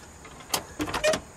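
A glove box in a 1968 Imperial Crown convertible pops open, a short latch click followed by a few close mechanical clacks and rattles of the compartment door, heard alone in a quiet car interior.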